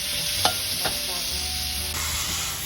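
Carp fries in fish sauce in a pan with a constant, close sizzle and a couple of sharp clicks, with no talking.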